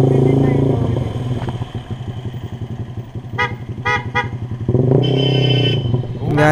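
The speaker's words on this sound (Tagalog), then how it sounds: "Ang daming busina." Several car horns toot in short bursts amid loud engine rumble of passing traffic, with a voice talking nearby.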